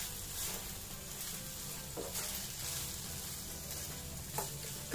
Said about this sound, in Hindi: तो मिक्स कर लेंगे सभी चीज़ों को